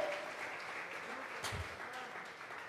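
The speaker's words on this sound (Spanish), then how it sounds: "Vamos a regalarle ofrendas de palmas al Dios de la gloria." A church congregation at a Sunday service applauds, a steady wash of clapping that stays fairly faint and distant throughout, with one brief louder thump partway through.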